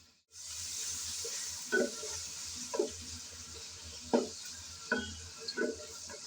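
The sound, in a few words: chopped onions frying in oil, stirred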